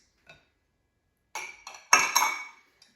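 Vegetable oil and vanilla extract stirred into cupcake batter in a bowl: a faint tap, then a short cluster of bright metallic clinks and scrapes of a utensil against the bowl, close and brief.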